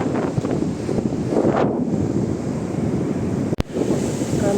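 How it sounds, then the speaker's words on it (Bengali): Sea waves roll in on an empty beach at dawn in Mandarmani, a loud continuous surf wash with gusts of wind buffeting the microphone and one sharp thump near the end. "আমরা খুব ভোর ভোর সি বিচে চলে গেছিলাম দেখতেই পাচ্ছেন পুরো ফাঁকা"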